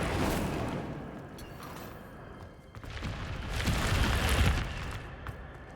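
Incendio fire spell cast in the Hogwarts Legacy video game, a loud rushing burst of flame with crackling booms that fades, then swells again in a second roaring blast.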